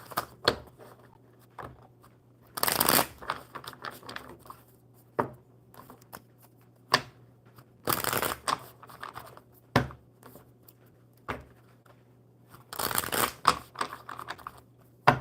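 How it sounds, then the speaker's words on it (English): Cards are shuffled in repeated bursts of riffling and flicking, with soft taps and rustles in between, close and fairly quiet. "One more good shuffle."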